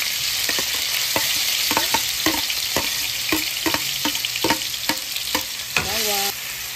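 Garlic, onion and other aromatics frying in oil go into a pan with a loud, continuous sizzle. Quick, repeated scrapes and clacks of a utensil stirring cut through the hiss, and the sizzle shifts abruptly near the end.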